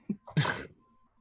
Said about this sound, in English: they hear a sneeze